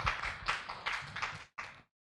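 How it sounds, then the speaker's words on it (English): A short burst of applause from a conference audience after plenary speakers, dense clapping rising and falling for under two seconds before stopping abruptly. "Let's give a round of applause."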